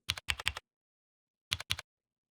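Two short bursts of crisp computer keyboard keystrokes, three taps then two more after a pause, close and clean against silence.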